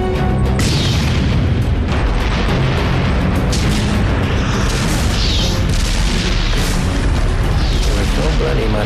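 A heavy explosion in a Battle of Normandy tank battle scene near Caen, a loud sustained boom with rumbling low-end debris and crackling bursts filling the whole span, dense and close.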